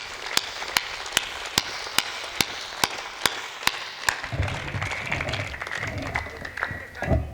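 At a poetry recital, sharp, evenly spaced single claps ring out in a steady rhythm, then the audience breaks into looser cheering and clapping.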